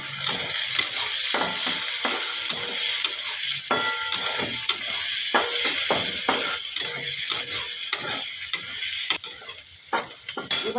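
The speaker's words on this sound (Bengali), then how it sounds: "এবারে আমি রসুন কুচি দিয়ে দিলাম, পেঁয়াজ কুচি দিয়ে দিলাম, কাঁচা লঙ্কা কুচি দিয়ে দিলাম।" Chopped garlic, onion and green chili sizzle steadily in a hot oiled pan, with a continuous bright hiss broken by frequent scraping stirs and light clicks of a spatula against the metal, close up and with no talking.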